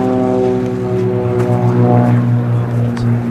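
A propeller plane drones overhead at the Nazca Lines in Peru, a steady buzzing hum of engine harmonics, fairly close and continuous, while muffled voices talk faintly underneath.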